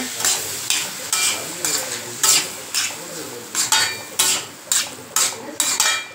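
Elephant foot yam chunks tossed with salt and chilli powder in a pan, loud repeated scraping stirs of a metal spatula against the pan every half second or so over a low sizzle, no talking.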